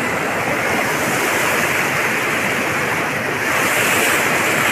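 Water rushes steadily and loudly at a small waterfall by a switch gate, a dense unbroken roar close to the microphone with no pauses.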